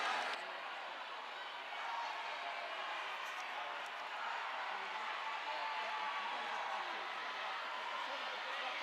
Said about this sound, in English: Amazing support from the crowd as these athletes come through their last stretch.